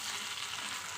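Fish oil and egg frying together in a small pan, a steady dense sizzle with fine crackle filling the whole short moment, close and even with no talk.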